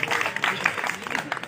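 A short burst of applause from an audience at a college National Service Scheme journalists' day event, as a speech ends; brisk, fairly close clapping lasting only a moment.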